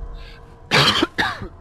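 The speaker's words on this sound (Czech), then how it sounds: "Pardon, nějak mě otravuje kašel" A man gives a dry cough in two harsh bursts, close and loud against a quiet backdrop of game ambience.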